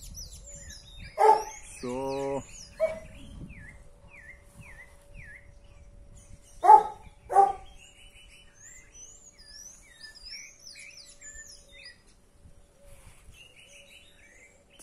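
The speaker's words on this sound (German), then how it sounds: "Die Vögel, die hört man natürlich im Hintergrund. Auch unsere Hunde." Birds chirp and sing steadily across a tropical yard with coconut palms in Paraguay, while dogs bark in short bursts near the start and again midway; a person speaks briefly.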